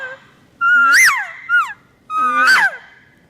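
A voice imitates an estrus elk cow call in two drawn-out, rising-then-falling nasal mews with a short chirp between, loud and close, alone without talk.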